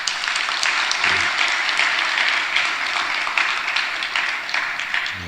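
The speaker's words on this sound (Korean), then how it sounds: "박수 한 번 더 받으세요" Steady crowd applause in a church, many hands clapping continuously at an even, fairly loud level throughout without pause.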